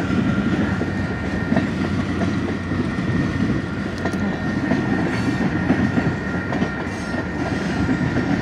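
A Union Pacific local freight train hauling tank cars rolls past loud and close, a continuous heavy rumble with steady clickety-clack of wheels over rail joints and no voices.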